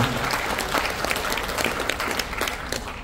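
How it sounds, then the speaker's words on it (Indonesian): A crowd applauds steadily at the opening of a Ministry of Public Works regional consultation, dense clapping filling the room without a break from start to finish. "Ibu Diana Kusumasudi, tepuk tangan juga untuk beliau"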